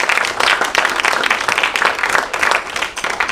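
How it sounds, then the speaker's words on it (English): A forum audience gives a round of applause for students, steady dense clapping close and loud throughout, with no voices over it. "So a round of applause for our students."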